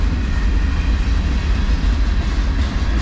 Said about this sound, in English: Probably the best train of the month.